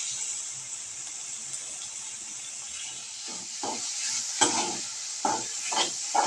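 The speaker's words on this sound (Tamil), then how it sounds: "இந்த டைமில் அரைச்சி வச்ச சிக்கன் இதை போட்டுடலாங்க." Ground chicken sautés in a pan with softened onion, tomato and green chilli, giving a steady close sizzle and hiss with intermittent scraping stirs that grow more frequent toward the end.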